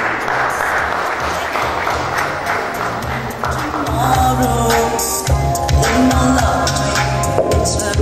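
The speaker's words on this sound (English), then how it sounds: "let's give a round of applause as he exits the stage" Audience applause at a Rotary installation ceremony as the club president leaves the stage, a dense continuous clapping swell that grows louder partway through, with some crowd murmur under it.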